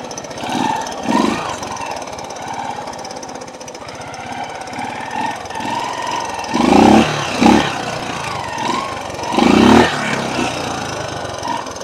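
A 1985 Honda four-stroke racing motorcycle engine runs and revs in repeated loud bursts, rough mechanical chatter between sharp throttle blips.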